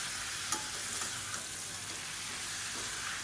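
Chicken pieces with garlic and onion sautéing in a pan, a steady close sizzle and hiss with a few soft stirring scrapes of the spatula.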